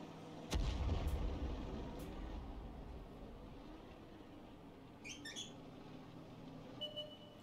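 Artillery fire in World of Tanks: one deep, booming shot near the start, fading out into a long low rumble, with faint high chirps further on.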